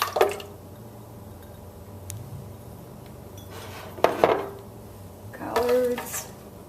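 Quiche ingredients (eggs, collards, parsley, onion) going into a blender: a few faint clinks of dishes and utensils and soft wet plops over a quiet room hum, with short pauses between each addition.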